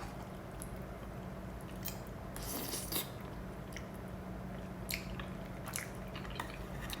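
Spicy tteokbokki rice cakes with cabbage being eaten up close, with soft wet chewing and a few brief crunchy bites over a steady low background hum, no talking.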